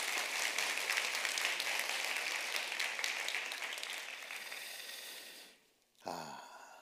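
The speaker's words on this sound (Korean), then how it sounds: "우리 가시는 분들 격려의 박수 한번 부탁드리겠습니다." Audience applause of encouragement for departing missionaries at a church service, loud, dense and sustained for about five seconds before fading out, followed by a brief low breath-like sound at the end.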